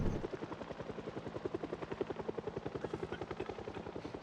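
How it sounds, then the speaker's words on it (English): A helicopter in the Project Zomboid video game, heard alone with a steady, rapid rotor chop that stays loud and close throughout. "there's nowhere on the map that you can go that the helicopter's not going to bring zombies"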